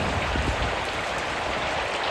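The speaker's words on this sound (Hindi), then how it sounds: "देखो बारिश स्टार्ट हो गई है।" Heavy slanting rain driven by wind pours down steadily, a dense, loud, close hiss of drops with no voices over it.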